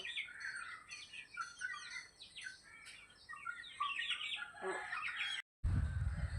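Chickens cluck in the open air on a morning among chirping birds, with scattered, intermittent calls, then a brief cutout and a low rumbling noise at the end.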